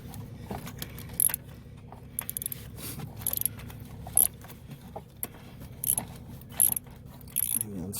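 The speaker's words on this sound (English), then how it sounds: "then put the ratchet on" Ratchet working a spark plug loose in the cramped engine bay of an Acura TL, giving short, faint clicking bursts at irregular intervals over a low background hum.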